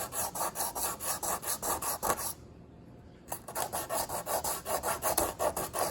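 Abrasive rubbing goes back and forth with the grain over deep scratches on a stainless steel refrigerator, a rhythmic rasping of rapid, even strokes with one brief pause, close and loud.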